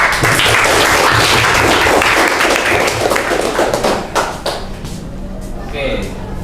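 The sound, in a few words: classroom applause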